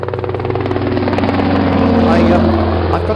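Helicopter rotor and engine drone playing as a sound effect at a business congress talk, a steady loud chopping hum that continues throughout while a voice speaks over it.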